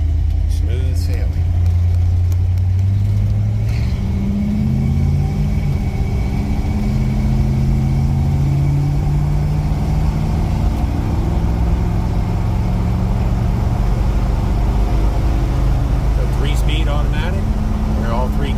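A 1967 Dodge Charger with a 318 engine and automatic transmission runs steadily with a low, continuous rumble that shifts in pitch as it drives down the road, with someone talking over it throughout.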